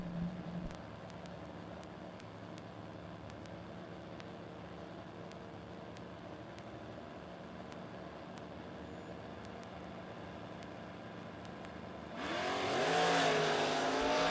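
A Ford Mustang and a big-tire Chevrolet Camaro idle at a drag strip, a low steady rumble with faint background clatter, then the engines surge loud near the end as the cars launch.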